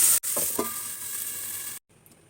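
Jackfruit seed curry with dried loitta and chepa shutki fries in a pan, giving a close sizzle with a couple of stirring scrapes before the sound cuts off sharply near the end as the pan is covered.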